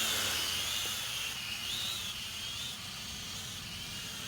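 Propel Maximum X11 drone flying at night, its steady high-pitched rotor whine holding constant at moderate distance for the whole stretch, with no voices.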